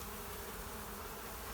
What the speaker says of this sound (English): I think he's probably freaked out by the bees in the window